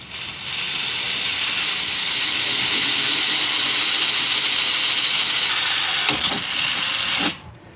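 A power drill with a 1/8 inch bit bores a hole in the body of a classic Ford truck, a steady high whine running for about seven seconds before it stops abruptly.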